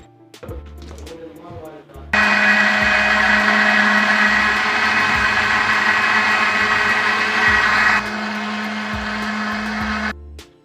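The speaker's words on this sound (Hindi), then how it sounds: "ये कोको पाउडर हम जग में डालेंगे और इसको अच्छे से फिर करेंगे ब्लेंड" A blender whirs loudly as cocoa powder is mixed into cake batter in a jug, running steady for several seconds, easing slightly lower partway through, then cutting off with a few knocks around it.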